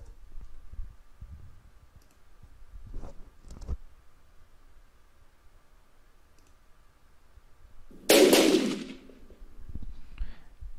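Gunshot sound effect played back in the Pinnacle Studio 24 Ultimate editor: after faint scattered clicks, one loud sharp burst of gunfire rings out near the end, alone with no talk.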